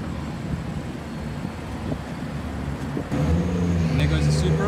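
A Toyota Supra drives past in Cape Town. A low engine rumble builds, then rises sharply near the end as the car nears, with a rough, growling exhaust over road noise.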